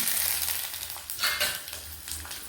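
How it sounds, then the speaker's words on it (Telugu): Tempering seeds for gongura pickle hit hot, bubbling oil and crackle in a close, busy sizzle with bursts of popping, heard alone without voices. "ఇలా మరుగుతున్న ఆయిల్లో తాలింపు గింజలు వేసి వేయండి"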